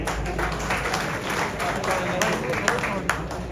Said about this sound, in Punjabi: ਬਾਬਾ ਜੀ ਨੇ ਤਾੜੀਆਂ ਮਾਰ ਦੇ ਨਾਲੇ